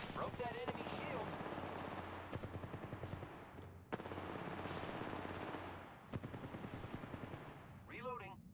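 Rapid bursts of gunfire from a multiplayer video game shooter, with repeated automatic shots in steady volleys, short pauses between bursts and a weapon sound near the end, mixed in the game's background.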